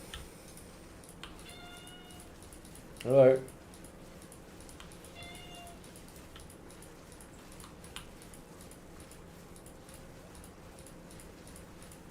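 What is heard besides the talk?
cat meowing in the room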